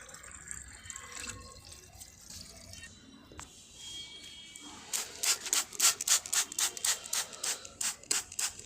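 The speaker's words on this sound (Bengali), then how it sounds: "জলটা ভরে নিই দাঁড়ান" A garden sprayer is filled from a tap, with water running and splashing in steady pulsing bursts into the tank, close by with no talking.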